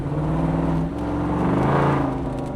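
A 1971 Ford Bronco with a Coyote V8 cruises down the road with an open top, its engine and exhaust a steady, fairly loud drone with a slight rise in pitch over the wind and road noise; no one talks.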